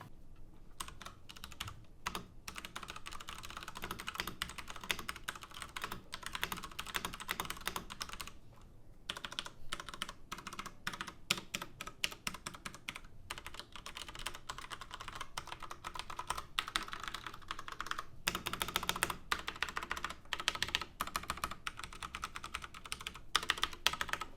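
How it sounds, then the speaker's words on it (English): Fast, continuous typing on a Ducky Origin mechanical keyboard with Cherry MX Brown switches, dense rhythmic key clacks close to the mic with a couple of brief pauses, no talking. "And now to finish it off, we'll do a little type test."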